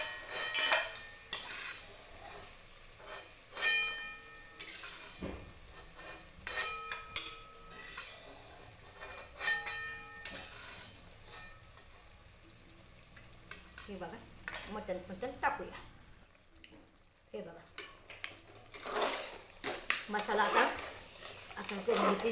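Mutton pieces fry and get stirred in a pan for a village-style mutton dish, a steady sizzle broken by scraping utensil clinks, with a few pauses and spoken voices in between.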